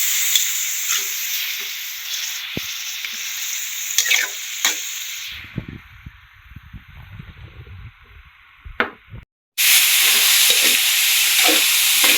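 Spaghetti sauce with ground meat, hotdog and carrots sizzles and is stirred in a pan, loud frying hiss with scraping strokes, then a quieter stretch of low rumbling before the sizzle returns loudly.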